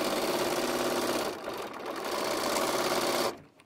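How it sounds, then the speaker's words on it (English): Sewing machine stitching fabric along a pocket, a loud close steady motor hum with rapid needle chatter, a brief dip in speed midway for a pivot, then running on before cutting off abruptly at the end. "I do turn, pivot, and sew the rest of this."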